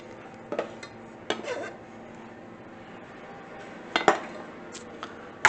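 Utensil scraping a mixture off into a bowl while making wheaten date bread, a few sharp clinks and scrapes of metal against the bowl with quiet pauses between.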